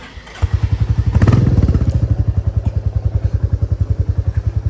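A Royal Enfield Bullet motorcycle thumps along on the road, its single-cylinder engine giving a loud, close, rapid and even pulsing beat that swells briefly before settling into a steady rhythm.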